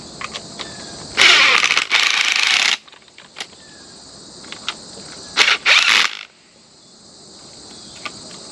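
A part on a remote-controlled return zip line trolley is tightened down in two bursts of buzzing, ratcheting whir, one longer and one short, with faint clicks and a steady high hiss in the quiet between.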